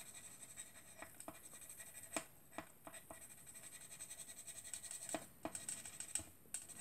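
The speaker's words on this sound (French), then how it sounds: "on va colorier l'écureuil" Colored pencils scratch softly across paper while a squirrel drawing is colored in, with quiet rhythmic back-and-forth strokes and occasional light taps, close up and faint, with no talk.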